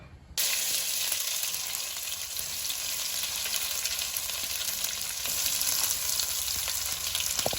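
Onions frying in ghee for a vegetable biryani give off a steady, dense sizzle that starts abruptly and holds loud and even throughout, with no voices.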